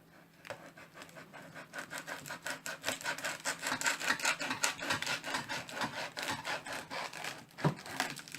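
A knife saws through a dried ridge gourd, a fast rhythmic rasping of many short back-and-forth strokes, close and steady, growing louder midway.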